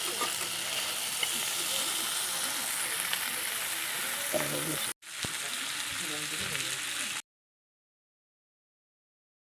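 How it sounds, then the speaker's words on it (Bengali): Cauliflower and potato pieces fry in hot oil for a Bengali aloo fulkopir dalna, a dense, steady sizzle with faint stirring, briefly cut off once before resuming and then stopping abruptly into silence. "আপনারা দেখুন ফুলকপিটা খুব সুন্দরভাবে কষে গেছে"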